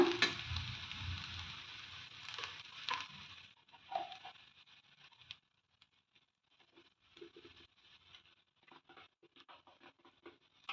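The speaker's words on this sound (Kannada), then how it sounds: "ಈ ಕೊತ್ತಂಬರಿ ಹಾಕ್ಕೊಂಡು ಮಿಕ್ಸ್ ಮಾಡ್ಕೊಳ್ಳೋಣ" A spoon scrapes and stirs coriander through cabbage rice in a pan with the flame off, a faint soft patter and scratching that starts fuller then thins into sparse light scrapes, no voices.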